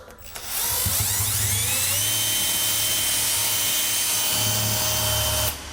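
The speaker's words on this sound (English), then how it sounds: "Since I'm using a larger drill bit, I'm going to run it in reverse." A power drill with a large bit runs in reverse into wood, whirring at high speed, a steady mechanical whine that holds for several seconds before stopping abruptly.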